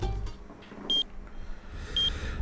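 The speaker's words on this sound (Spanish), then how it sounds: "estáis notando un ruido, ¿verdad? Un pitido. Bueno, eso nos indica que en este nivel hay escondida una de las piezas del transmisor" Electronic beeping from the Powerslave Exhumed video game signals a hidden transmitter piece, two short steady tones about a second apart over a low rumbling game background.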